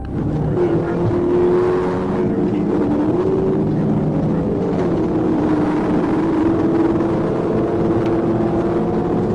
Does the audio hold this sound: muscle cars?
yes